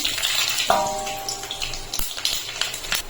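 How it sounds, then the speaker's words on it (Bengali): Dry red chilies and mustard seeds dropped into hot mustard oil for tempering dal, giving a loud, close, sustained hissing sizzle that crackles unevenly and slowly settles. No one speaks. "এখন আমি ফোড়নে দিয়ে দিচ্ছি শুকনো লঙ্কা আর সর্ষে।"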